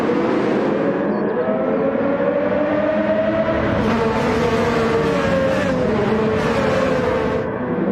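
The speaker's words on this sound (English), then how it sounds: "He jumps Milenkovic off the line and takes the lead in his first DRSL race." Race cars pulling away from the starting line in a Gran Turismo race at the Circuit Gilles Villeneuve, engines droning loud and continuous as a pack, pitch rising through the gears, with commentary over the top.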